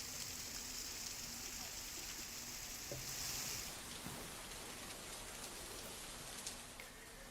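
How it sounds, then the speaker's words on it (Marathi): Heavy stormy rain with strong wind in Nashik, a dense continuous hiss of downpour on surfaces that stays steady and fairly distant throughout, with no voices. "अचानक जोरदार सुरू झालेल्या वादळी पावसामुळे नागरिकांची चांगलीच तारांबळ उडाली"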